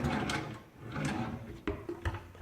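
Kitchen cabinet drawers opened and closed, a few short wooden knocks and slides, moderately close with quiet pauses between.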